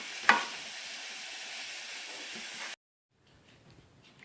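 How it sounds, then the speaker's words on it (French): Ground meat sizzling in a pan for poutine while a spoon breaks it into small pieces: a steady close hiss with a sharp scrape near the start, cutting off abruptly to faint clinks. "Puis on défait la viande en petits morceaux avec la cuillère à mesure qu'elle cuit."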